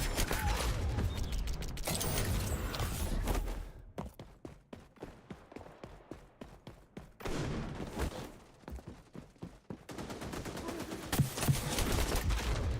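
Rapid bursts of gunfire in the video game XDefiant, clustered rattling volleys with short gaps between them, mixed with clicking game mechanisms and background game noise.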